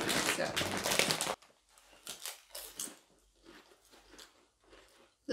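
Sour cream and onion snack chips crunched close to the mic, with a loud burst of crisp crunching first, then quieter, intermittent bites and chewing.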